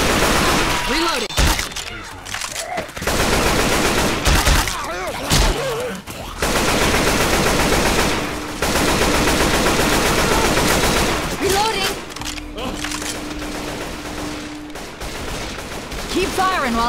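Gunfire in Left 4 Dead 2, dense bursts of automatic fire in overlapping volleys with brief gaps, loud and close, while voices call out over the shooting.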